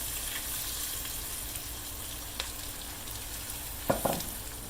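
Eggs dropped into a hot pan beside potatoes for a Southern country breakfast give a steady, soft sizzle throughout, with a couple of brief clattering thumps near the end.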